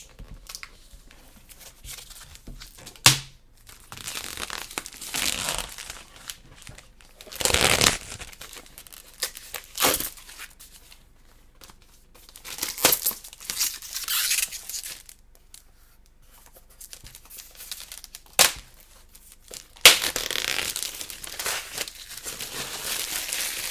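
Cellophane wrapping crackles and tears in irregular loud bursts as it is pulled off a boxed art book, with quieter rustling between the sharp crinkles.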